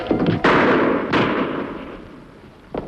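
Gunshots in an old western radio drama, two loud sharp blasts with long echoing decay, followed by a fainter third shot near the end, with no voices over them.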